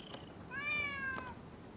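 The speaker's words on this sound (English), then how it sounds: "Who'd have thought a stray cat would wander in?" A stray cat in a Rise of the Ronin cutscene gives a single clear, rising-then-falling meow of about three quarters of a second, fairly quiet over a low background hum.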